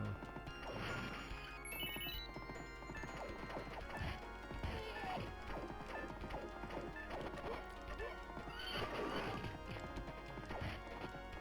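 Knights of the Round 1991 arcade game: galloping horse hoof clip-clops and a whinny mixed with sword clashes and busy game music, fairly quiet overall.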